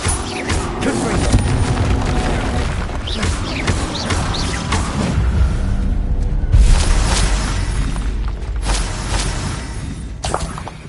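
A dense, continuous magical battle in Hogwarts Legacy, with the Confringo fire spell among it: booming blasts and crashing impacts pile up over a roaring bed of noise, loud and close throughout, with sharper hits near the end.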